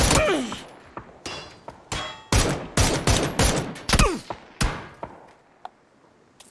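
Gunfire in PUBG rings out in a rapid series of sharp, loud shots and bursts, some clustered closely and others spaced apart, with brief metallic clangs between them and fading toward the end.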